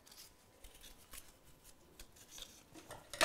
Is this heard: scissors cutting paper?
yes